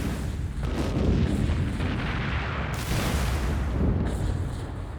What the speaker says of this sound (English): Thousands of Nazi bombs raining down on London, shattering everything from structures to psyches.